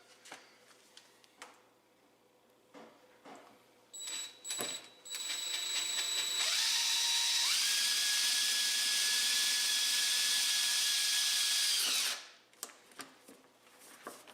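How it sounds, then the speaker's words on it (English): A power drill whines steadily for several seconds while drilling through marked points for a RZR cab heater install, its pitch stepping up partway, preceded by a few tapping knocks and followed by faint clicks. "you're going to drill through your marks"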